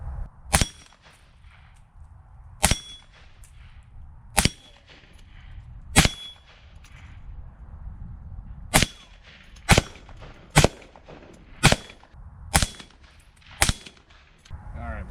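5.56 rifle rounds striking a 3/4 inch steel plate: about eleven sharp, loud shots with metallic clangs, spaced irregularly one to two seconds apart, with quiet outdoor background between them.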